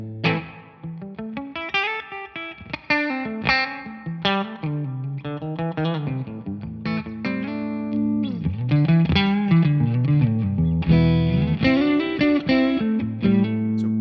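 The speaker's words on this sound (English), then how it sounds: "I'm going to start off using my beautiful custom shop 50 Strat on the lowest level of gain with that bright switch off." A custom shop '50 Stratocaster on the bridge pickup plays through a Suhr Bella amp set to its lowest gain with the bright switch off, giving a run of ringing, sustained notes and chords, loud and close, with no talking.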